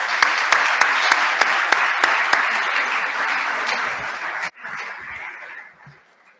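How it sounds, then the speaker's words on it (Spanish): An audience at a university talk on humanism and Olympism gives a guest speaker a warm round of applause, full and sustained before dropping off abruptly and trailing into softer, fading clapping. "vamos a recibirle con un fuerte aplauso"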